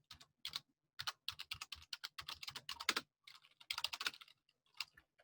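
Someone types a password on a computer keyboard, quiet close-up clicking in quick bursts with short pauses between, no talk.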